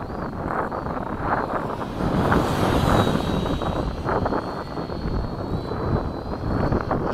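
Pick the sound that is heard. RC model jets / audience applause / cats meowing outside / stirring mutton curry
RC model jets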